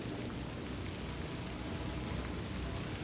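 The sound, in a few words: rain falling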